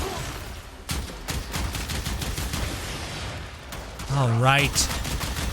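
Rapid gunfire from a weapon in the Warframe video game keeps going under a voice, then a rising and falling electronic whine cuts in near the end.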